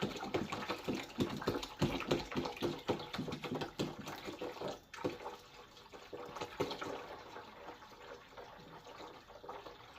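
Water poured quickly and carelessly into a blueberry mead fermenter, a splashing, gurgling fill that stays close and fairly loud for several seconds, then fades to quieter trickles and a few clinks.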